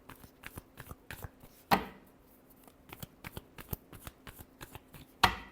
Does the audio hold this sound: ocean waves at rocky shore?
no